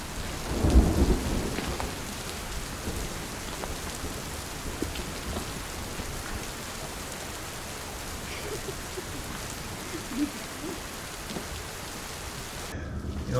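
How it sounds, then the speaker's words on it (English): Steady rain pours down close by on a forest hiking trail, with a deep rumble of thunder near the start, then a continuous wet hiss throughout. "It's starting to rain on us."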